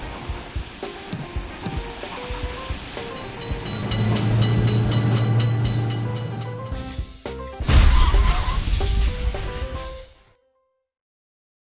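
In the Indian Train Simulator game, a train rolls through a level crossing, its rumble and rattling wagons swelling loudly, then a harsh clattering crash before everything stops abruptly.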